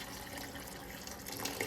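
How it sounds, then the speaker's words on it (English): Running water from a tap pours steadily into a cooking pot of rice porridge with herbs, a continuous close splashing wash that brightens briefly near the end, with no talking. "I'm gonna add some more water."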